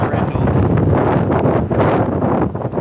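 Strong wind buffets the microphone outdoors in San Francisco, a loud, continuous low roar with gusty surges and no clear voices over it.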